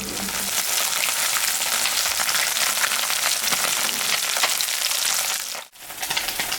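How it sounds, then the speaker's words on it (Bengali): Raikhor fish seasoned with salt and turmeric fries in oil with a loud, dense crackling sizzle that holds steady before a momentary drop near the end, then resumes. "মাছটা এখন আমি ভাজবো।"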